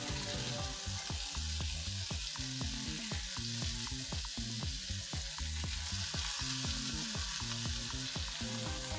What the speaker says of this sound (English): Just the hot pan still sizzling.